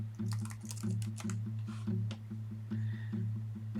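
Keyboard keys clatter in quick irregular bursts while a web search is typed on a computer, close and moderately loud over a steady low electrical hum.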